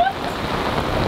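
Rain falls on a sailboat as a dense, steady hiss of drops pattering on the deck and surfaces, close and continuous for the full second, with no voices.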